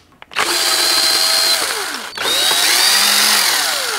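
A power tool spins bolts off the bearing retainer of an early T10 four-speed transmission from a C1 Corvette: two loud, close whirring bursts, each winding down, separated by a brief pause.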